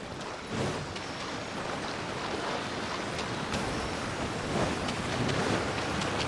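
Waterfall in the video game Genshin Impact, a dense continuous rush of falling water, steady and fairly loud throughout with no talking.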